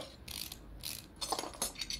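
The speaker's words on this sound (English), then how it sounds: "Go ahead and take this caliper off." Brake caliper removal in the Car Mechanic Simulator 2018 video game, several quiet mechanical ratcheting and clinking bursts in quick succession, faint and close.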